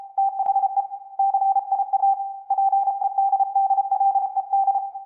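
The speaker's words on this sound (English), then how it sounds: "convert a tiny clip of our text thread into Morse code" Morse code beeps in a song, a single steady mid-pitched tone keyed on and off in quick dots and dashes, with short pauses between groups, clear and alone.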